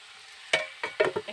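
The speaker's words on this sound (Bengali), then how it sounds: "এই যে মাংস রান্না করছে" Meat and vegetable khichuri with cauliflower, beans, potato and cabbage cooking in a pot, with a few short scraping stirs and sizzles that come in quick, uneven bursts over a quiet background.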